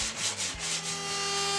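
Close, rhythmic rasping of sandpaper scrubbing back and forth over a wooden desk's rounded edge, steady and alone.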